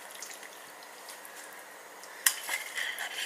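Spoon and dishes clink while macaroni and cheese is plated in a home kitchen: quiet background at first, then a sharp metallic clatter followed by a few softer knocks and scrapes.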